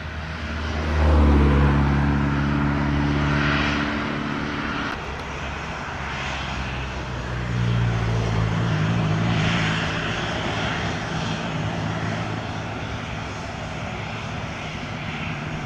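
An American airliner departs runway 25 at Montego Bay airport, its jet engines roaring in a loud sustained rumble with droning tones that shift as it powers up and moves, heard without any talk.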